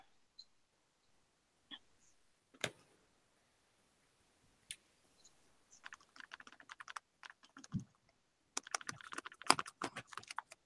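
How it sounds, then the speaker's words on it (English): Scattered light taps and clicks like fingers on a keyboard, sparse at first then quicker clustered tapping, faint and close with no talk. "All right, who's typing?"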